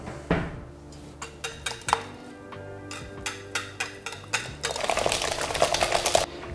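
A whisk or spoon clinks rhythmically against a bowl while loosening a vanilla flan batter, a dozen or so sharp taps followed by quicker, busier stirring near the end, with no talking.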